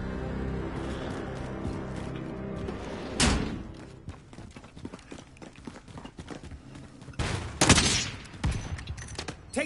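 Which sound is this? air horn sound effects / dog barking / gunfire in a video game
gunfire in a video game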